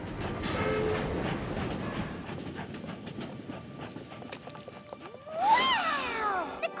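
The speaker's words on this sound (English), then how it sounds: "Watch your step leaving the train." A cartoon train rolls into a station in a My Little Pony episode, its wheels clattering rhythmically over the rails before a brief squealing screech near the end.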